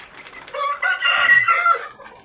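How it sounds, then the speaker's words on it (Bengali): Chickens at a poultry farm holding large-breed birds, with a rooster crowing in a drawn-out, fairly close call and some clucking around it, with no talk. "এই যে দেখেন মুরগিগুলো দেখেন এগুলো সবই বড় জাতের"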